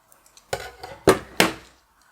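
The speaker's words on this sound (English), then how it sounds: "how about if I cut this apart?" Scissors cut apart a paper collage tag in three crisp snips, spaced about half a second apart, close and fairly loud with quiet between.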